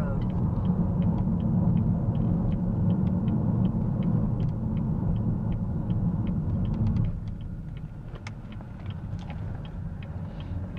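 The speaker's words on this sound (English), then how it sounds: "we're riding in the car right now with the AC and stuff blowing" Interior of a moving car with the air conditioning blowing, a steady low rumble and fan hiss, the blower easing down partway through, small ticks and clicks scattered over the drone.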